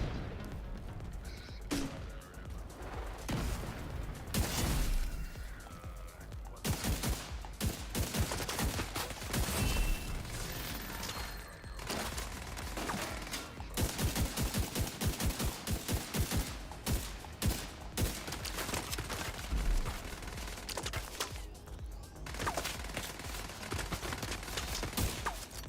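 Rapid bursts of Tech 9 Uzi fire in The Division 2, sharp automatic volleys and scattered single shots crackling close and loud in irregular clusters with brief pauses between, with no talk.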